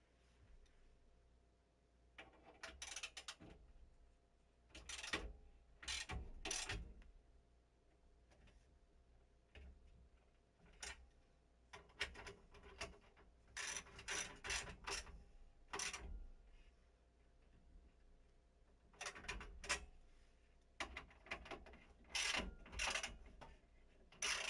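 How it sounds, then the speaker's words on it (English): A mechanic's ratchet wrench tightening a car part in Gran Turismo 7, heard as bursts of rapid, crisp clicking that stop and start over and over, with quiet gaps in between. "you can see the wrench tighten it down"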